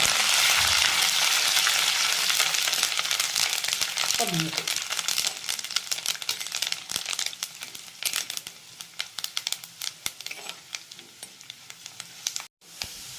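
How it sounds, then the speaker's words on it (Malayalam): Curry leaves hit hot oil with popped mustard seeds and ginger while a Kerala-style coconut fish curry is cooked. A loud, steady sizzle and crackle runs throughout, with brief crinkling bursts, and it eases slightly toward the end. "ഇനി അതിലേക്ക് നമ്മൾ കരിയാപ്പില ഇടും."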